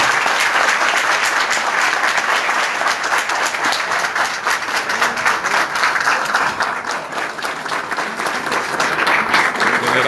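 An audience of business owners in Uruguaiana applauds General Mourão after his talk, dense continuous clapping filling the room at full volume without a break.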